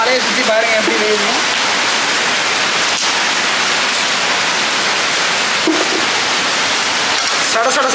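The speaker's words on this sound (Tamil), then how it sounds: "சட சட சட சடன்னு அடிக்குது மழை." Heavy rain pours down steadily in a village outdoor cooking spot, a loud, dense hiss of drops beating on surfaces that fills the whole stretch, with someone briefly speaking near the start.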